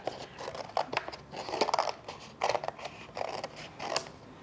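Scissors snip through paper cutting out an astronaut shape, giving a series of close, quiet cuts in an uneven rhythm with short pauses between them.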